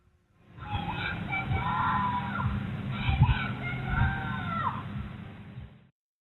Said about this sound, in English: A neighbour recorded his desperate screams to be let in.